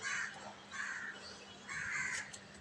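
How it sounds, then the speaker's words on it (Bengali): Crows caw outdoors on a morning rooftop, three drawn-out calls spaced a second or so apart, moderately near over quiet ambience. "তো দেখুন চারপাশে পাখির কিচির কিচির ডাক, কাক ডাকছে"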